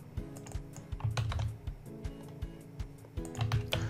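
Quick typing on a computer keyboard, a dense run of close, crisp key clicks in an uneven rhythm, with a short pause in the middle before the tapping picks up again.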